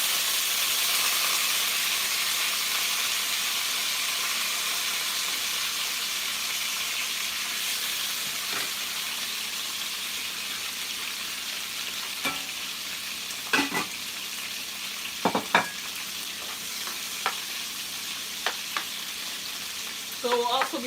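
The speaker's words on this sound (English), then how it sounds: "So we'll also be frying this for just about 3 to 4 minutes" Chicken gizzard frying in hot oil gives a steady, close sizzle and hiss, with sharp pops and spatters breaking through more often toward the end.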